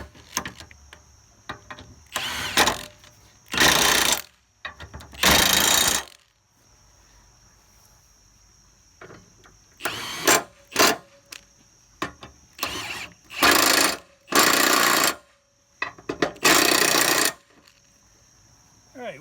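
A 15mm socket on a ratchet tightens the spindle bolts on a John Deere L110 mower deck in bursts of loud, rapid clicking, separated by pauses with a faint background hum.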